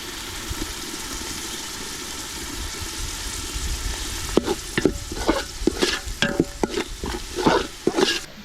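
Green chilli and ginger garlic paste fry with a steady low sizzle, joined halfway through by a rapid series of spoon scrapes and clinks against the pot while stirring.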